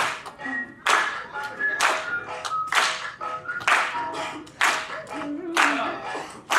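During a singing competition semifinal, an audience claps in bursts of loud rhythmic hand claps recurring about once a second, with sustained sung tones between them.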